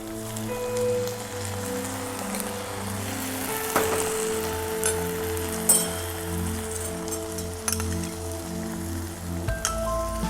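Ginger garlic paste hits onions already frying in a pan, giving a steady rain-like sizzle with a sharper burst as it goes in, plus a few clinks, beneath a faint humming tone.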